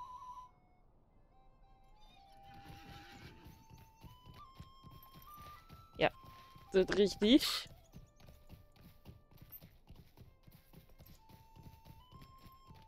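Horse in Lord of the Rings Online, soft rhythmic hoof clopping under a steady musical drone, with a brief louder snort-like burst midway and someone talking quietly in German.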